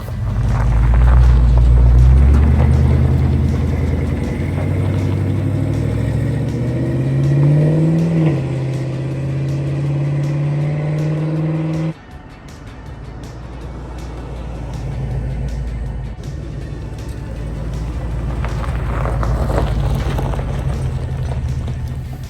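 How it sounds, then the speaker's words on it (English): A steady engine drone with road rumble from a Chevrolet C10 pickup truck cruising at highway speed, loud and continuous, with a brief shift in tone midway. "it goes down the highway at highway speeds, and the engine is just idling along"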